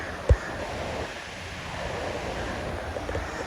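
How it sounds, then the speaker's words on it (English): Distant waterfall along the Multnomah Falls trail in Oregon, a soft, steady rush of water heard from afar under light wind, with one brief knock near the start. "I hear water."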